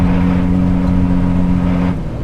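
A race car's 3.4 litre engine mounted behind the cabin drones loudly and steadily from close by, its tone easing and dropping slightly near the end as the revs settle.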